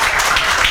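A brief burst of steady, dense clapping from a class of students, many hands close by and at an even loudness.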